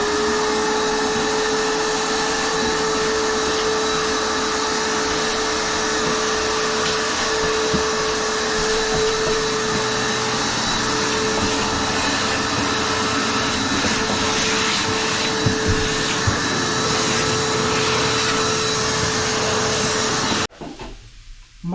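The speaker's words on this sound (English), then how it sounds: "Now I am doing the vacuum cleaning using this big vacuum." A big vacuum cleaner runs steadily over a sanded plywood floor in a cabin room, a loud continuous whooshing roar with a steady whine that holds for about twenty seconds before abruptly cutting off.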